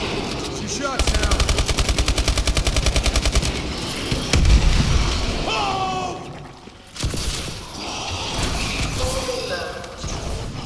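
Gunfire in the video game Attack of the Radioactive Thing: a fast, even burst of automatic shots, then heavier blasts and mixed game effects, with a voice talking over parts of it.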